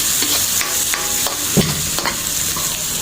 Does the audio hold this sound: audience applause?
no